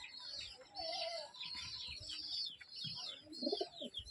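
Pigeons coo softly in short, throaty bursts amid faint chirping from other birds, with a low rounded coo standing out near the end; quiet and close, with no voices.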